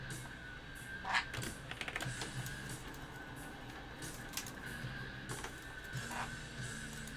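Typing code on a computer keyboard, irregular bursts of quiet, close key clicks and taps continuing throughout with no talk.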